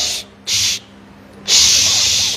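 Three bursts of spray from a can misting a dried kopiah cap: a short hiss, a second short hiss after a pause, then a longer sustained spray, close and fairly loud.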